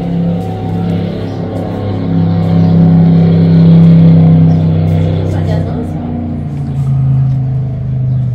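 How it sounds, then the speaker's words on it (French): A speedboat engine on a lake makes a loud, sustained motor drone that swells and eases slightly as it runs, close and continuous. "il y a un speedboat"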